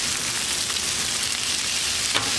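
Bacon and sausage sizzle steadily on a Blackstone griddle at a brunch cook, a dense, close, continuous crackle with a faint tap near the end and no talking.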